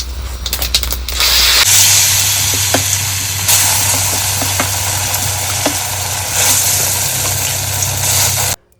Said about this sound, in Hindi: तो तेल में जीरा डाल दिया था। जीरा डालने के बाद सारी दाल इसी में डाल दी।